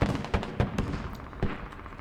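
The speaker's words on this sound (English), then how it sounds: "Accurate helicopter marks on mortar explosions" Mortar explosions in the tactical shooter game Squad, a string of sharp booming thuds at irregular intervals, some near and heavy, others farther off, over a steady battlefield rumble.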